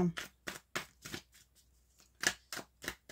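Tarot cards are shuffled for a reading, with a series of short papery riffles and flutters coming in quick bursts, close and fairly quiet.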